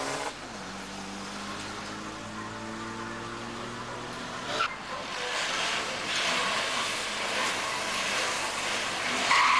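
A racing van's engine at a drag race event sounds as a rising, revving drone that cuts off near the midpoint, then swells into a louder, rougher roar with hissing, heard from a moderate distance.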